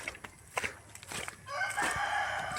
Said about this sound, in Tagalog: Ang daming manok dito, no?